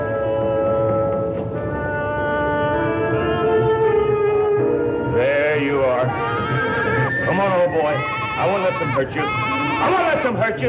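A goat bleats repeatedly in a 1970 horror film scene, wavering cries rising over loud voices talking and shouting throughout.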